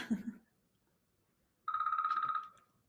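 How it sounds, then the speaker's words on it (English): A mobile phone rings in a quiet room, a steady electronic tone pulsing rapidly for about a second before fading, after a brief bit of nearby talk. "I'm trying to silence my phone."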